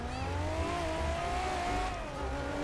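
Modded Toyota Supra MK4 driving in GTA 5, its engine holding a steady, loud drone with a slowly rising pitch, backed by constant road noise and a faint tire squeal.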